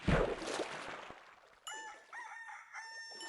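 A rooster in Minecraft crows once, loud and close, following a brief burst of noisy rustling.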